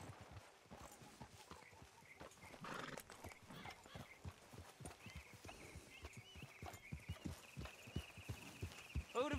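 Rhythmic horse hooves clip-clop steadily throughout, with an occasional whinny and soft background music-like tones, from a horse ride in the video game Red Dead Redemption 2.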